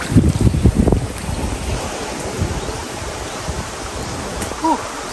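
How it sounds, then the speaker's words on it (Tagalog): Strong wind roaring against the microphone by a river during rain, with low rumbling gusts, a voice speaking briefly at the start and again near the end. "yun pong hangin ay hindi pa po nagbabago. Malakas pa din po."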